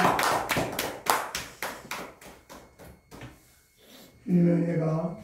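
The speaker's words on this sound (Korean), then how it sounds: "우리 앞으로 건강하게 신앙생활 잘 하시라고 박수 한번 쳐드리겠습니다" A church congregation claps in slow unison, about a dozen distinct claps in a steady rhythm that grow softer and sparser, followed by a voice speaking.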